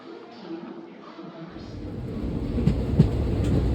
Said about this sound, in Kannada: ಸೊ ಮೈಸೂರಿಗೆ ಟ್ರೈನ್ ಅಂತೂ ಬಂದ್ಬಿಡ್ತು.